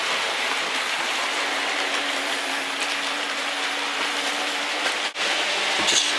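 OO gauge model trains running around a home layout, giving a steady faint hiss-like rolling rumble that continues throughout, with a brief click near the end.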